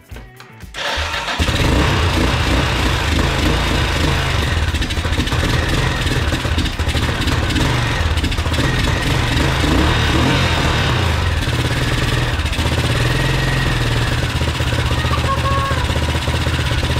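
Yamaha XT600 Z Ténéré 1VJ motorcycle engine starts after a brief crank and settles into a loud, steady running idle close by, powered from a temporary 125 battery, with no talk over it.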